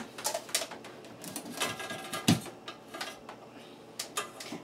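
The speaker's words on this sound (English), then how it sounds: "So now I'm going to mix it around." A spoon scrapes and clinks against a bowl while a vinegar dish is stirred, giving irregular light taps and scrapes close by.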